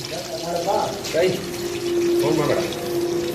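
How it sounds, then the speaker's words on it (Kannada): Garlic chicken kebab pieces sizzling and crackling in hot oil as they release water, a steady spattering hiss close by, with voices talking over it. "ಎಣ್ಣೆ ಒಳಗಡೆ ಈ ಚಿಕನ್ದು ನೀರು ಬಿಡುತ್ತಲ್ಲ ನೀರೆಲ್ಲ ಬಿಡ್ತಾ ಇದೆ ಚಿರ್ರ ಚಿರ್ರ ಅಂತ"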